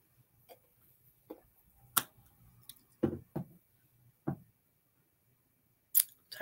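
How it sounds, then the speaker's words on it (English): Sparse, separate clicks of typing on a computer keyboard, single keystrokes and short pairs spaced by pauses, quiet and close in an otherwise silent room. "Typing."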